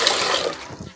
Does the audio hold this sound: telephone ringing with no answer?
no